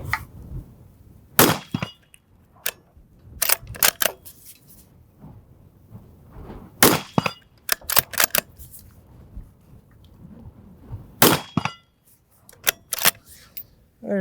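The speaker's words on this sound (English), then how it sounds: "There's 11 rounds on the steel there." Rifle shots, some from hand loads, ring off steel targets in a series of sharp, loud cracks and metallic impacts, spaced irregularly with short quiet gaps between them.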